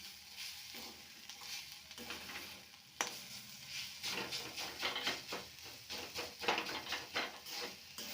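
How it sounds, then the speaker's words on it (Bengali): Vegetables with a little turmeric sizzle quietly in a pan over raised heat while being stirred, with repeated scraping strokes and soft crackling in an irregular rhythm. "এবার ভালোভাবে একটু ভেজে নেব"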